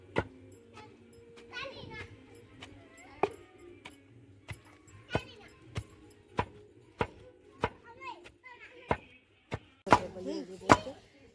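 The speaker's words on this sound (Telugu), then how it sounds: "ఇట్లా బాగా దంచాలి ఏదైనా గింజలు ఉంటే పగులుతాయి" Castor seeds pounded hard to crack them for oil, heard as a steady run of sharp, loud thuds about every half second, with children's voices and chatter in the background and a cluster of heavier blows near the end.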